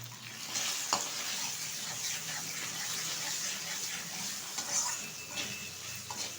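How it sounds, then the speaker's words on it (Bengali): Chunks of taro root being stirred in hot oil in a pan while cooking a pangas fish curry, with steady close sizzling and frying and occasional scraping clinks of the spoon, no talking. "কচুটা কিন্তু একটু নেড়ে চেড়ে নিয়েছি তেলের সাথে।"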